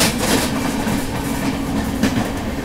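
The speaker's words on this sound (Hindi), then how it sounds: "माई ट्रेन 11:10:55 यानी कि 11 बजे खुल गई।" Shramjeevi Express with LHB coaches runs at speed, a loud, close, continuous rumble with rhythmic clickety-clack of wheels over rail joints, heard alone without talk.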